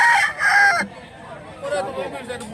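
A rooster at a chicken market crows loudly nearby in one long call, followed by softer clucks and market murmur.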